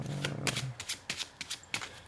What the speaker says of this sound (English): I'll give it a bit of a shuffle while we're at it